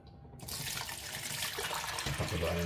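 Water pours from a tap into a pot of tender onion and tomato for chicken sotanghon soup, a steady close splashing rush that begins abruptly.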